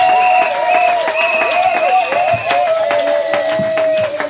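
A congregation in a church claps in a quick, steady rhythm close by, the many hand claps running together with sustained singing and instrumental tones.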